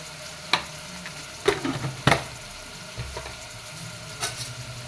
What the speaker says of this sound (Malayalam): ഇനി ഇത് നന്നായിട്ടൊന്ന് ഇളക്കി കൊടുക്കണം ജസ്റ്റ് ചൂടാവുന്നത് വരെ ഇളക്കുക